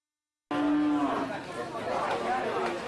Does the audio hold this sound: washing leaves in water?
no